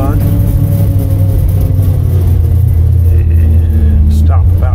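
A 3300 combine harvester's engine runs steadily up close with a low, loud rumble just after the choke comes off, with a voice speaking over it.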